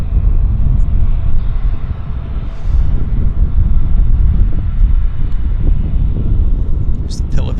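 A Philippine Airlines airliner taxis and turns at Vancouver airport, heard as a steady distant roar and low rumble mixed with wind buffeting the microphone.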